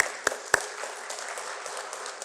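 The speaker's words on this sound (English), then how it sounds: "Round of applause, please," A luncheon audience applauds: steady, fairly faint clapping runs through the whole stretch, with two sharper individual claps standing out near the start and no talking.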